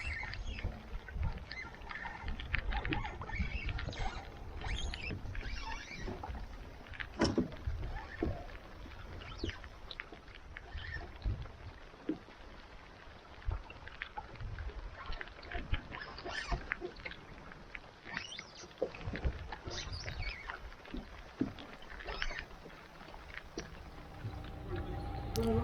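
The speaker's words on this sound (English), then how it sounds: "That rain's coming down hard now." Steady rain drumming on an open sailing dinghy in wet, windy weather on a Scottish loch near Cullochy Lock, a dense continuous patter with scattered sharper hits from nearby drops and no voices.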